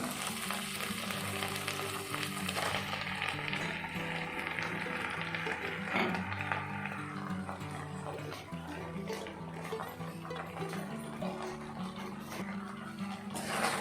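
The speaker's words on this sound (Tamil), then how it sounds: "நல்லா இதை வந்து மிக்ஸ் பண்ணிக்கலாம்" Cut idli pieces fry and sizzle in a vegetable sauce in a pan, with steady crackling and scraping stirring throughout, close and continuous.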